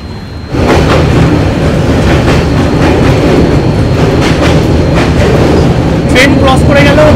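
Passenger train leaving Dakshineswar station in Kolkata during heavy rain, a loud continuous rumble of wheels on rails with rhythmic clatter, heard from inside the coach after a quiet opening half second.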